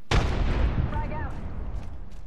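A frag grenade goes off in Apex Legends with a sharp, loud blast that decays into a rumbling tail, followed by softer game noises.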